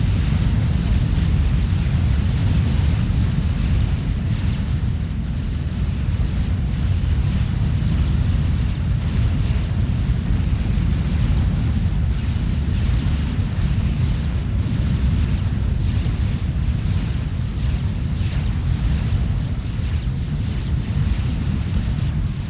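Aurora unit fire and explosions in a Forged Alliance real-time strategy battle, a dense continuous low rumble of blasts and weapons fire throughout, loud and unbroken.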